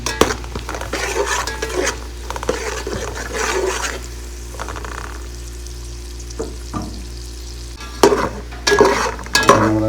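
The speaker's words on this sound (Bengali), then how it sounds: "এবার এখন আমরা দিয়ে দেবো কিশমিশ ভালো করে মেলে নেড়ে দেবো" Raisins stirred through hot oil in a pan while making chicken sawaya, a steady sizzle with repeated scraping strokes of a spoon against metal, close and fairly loud, with a few sharper clatters near the end.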